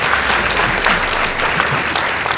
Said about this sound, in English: Kindly give them a round of applause.